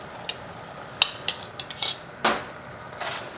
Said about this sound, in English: Give a good stir.